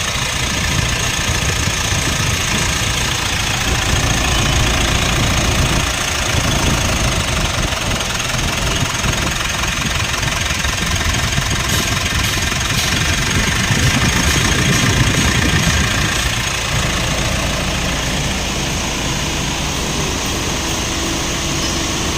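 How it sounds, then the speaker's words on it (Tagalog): The diesel engine of a 2016 Mitsubishi Montero Sport with a 4M15 engine idles steadily with a low, knocking rumble and constant vibration for the whole stretch, close by and without pauses. "Normal na lang ang tunog ng makina."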